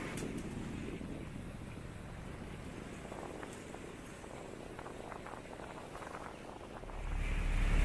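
Strong wind buffets the microphone aboard a sailboat crossing the Atlantic from the Canaries to Guadeloupe, over the rushing wash of rough sea, with a heavy low gust swelling near the end.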